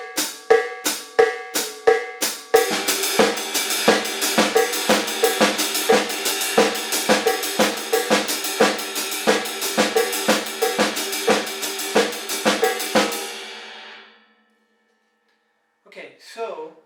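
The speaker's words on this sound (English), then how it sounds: "is apply the cowbell with my foot." A drum kit plays a steady groove, with hi-hat and a cowbell struck by the foot keeping time over the pattern. The hits are loud, close and evenly rhythmic, and the kit stops near the end before a brief few extra hits.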